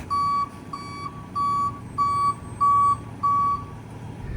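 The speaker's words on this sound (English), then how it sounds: "There's the tow truck rolling on up." A tow truck rolls up with its reversing alarm beeping, six steady evenly spaced beeps at close range over a low engine rumble, with no talk.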